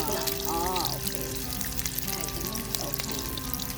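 An egg fries in hot oil in a pan at a campsite in Wang Nam Khiao, giving a steady, close sizzle throughout, with faint voices in the background.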